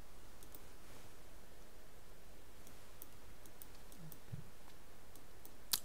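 A computer keyboard's Tab key is pressed, giving faint scattered clicks over low room hiss and one crisper, louder key click at the very end.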